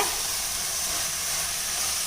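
Rice sizzles and crackles steadily as it is sautéed in ghee and stirred in a hot pan for vegetable biryani, close up with no voices.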